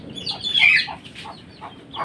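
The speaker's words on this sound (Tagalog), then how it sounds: "Sa alaga ko na may sisiw." Hen clucking softly near her chicks in a backyard, a few short close clucks with faint peeping, no talk.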